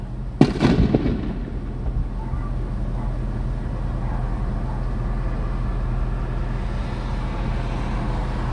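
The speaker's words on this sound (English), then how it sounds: "That was an aerial firework." A single aerial firework bursts with a sharp, loud bang near the start, followed by a steady low rumble of traffic or engine noise outdoors at night.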